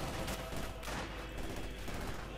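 Gunfire from a Company of Heroes 2 battle, with rifles and machine guns facing Panzer Grenadiers, rattles in quick overlapping bursts at moderate distance, fairly quiet and dense throughout the short stretch.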